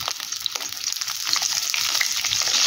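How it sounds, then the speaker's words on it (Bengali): Pointed gourd pieces are tossed with turmeric in a hot pan, giving a steady close sizzle with scraping stirs that grows slightly louder and denser. "এবার হলুদের সাথে পটলটাকে বেশ ভালো করে মিশিয়ে নেব"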